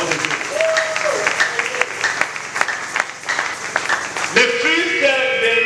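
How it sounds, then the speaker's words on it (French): A congregation at a church seminar applauds, a sustained wash of clapping from many hands in a large room, heard beneath a loud amplified voice and music that swell toward the end. "Applaudissons encore une fois la parole de Dieu."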